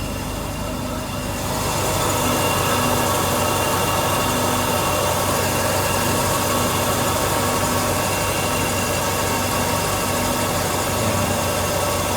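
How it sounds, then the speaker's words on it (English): A Mercedes W124 engine idles close by with a newly installed oil sender switch, giving a steady, unbroken mechanical hum with faint vibration throughout. "We'll try running it with the engine on."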